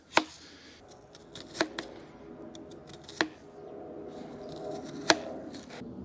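A knife chops a red onion on a board, with several sharp, separate cuts at irregular intervals and a quieter rustle between them, heard close up.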